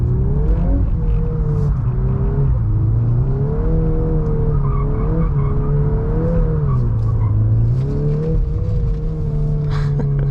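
A VW MK8 Golf R with Magna torque vectoring doing donuts in drift mode, the engine droning loud and steady, its pitch swelling and dipping with each circle, tires rumbling and scrubbing underneath.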